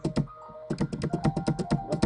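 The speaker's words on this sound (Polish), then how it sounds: "Właśnie klikam spację, żeby mi jechać." Spacebar key clicks on a computer keyboard during play of the To The Moon video game, a quick close run of sharp taps, a pair of clicks, a short pause, then about a dozen rapid evenly spaced presses.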